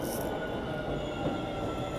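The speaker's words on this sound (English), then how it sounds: "Oh, here comes the train." An electric train rolls past nearby in a steady, loud rumble with a thin sustained metallic whine and wheel squeal riding over it, holding constant across the moment with no voices.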